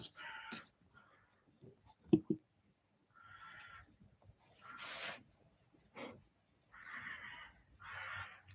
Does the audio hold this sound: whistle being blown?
no